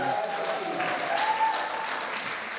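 An audience claps together in sustained, even applause, close and fairly loud, with no voices on top.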